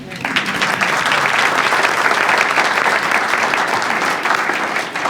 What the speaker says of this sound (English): I would like for you to join me in a round of applause to you for being here